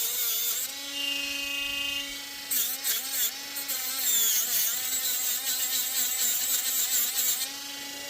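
A high-pitched whining rotary tool sands a copper ring continuously, its pitch dipping and rising as it presses against the metal, close up and fairly steady.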